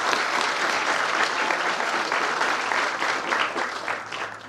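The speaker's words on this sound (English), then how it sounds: "Let's give him a hand of applause" A crowd at a South African Police Service academy passing-out parade in Ulundi bursts into sustained applause, a dense, even wash of clapping that holds steady before tapering slightly at the end.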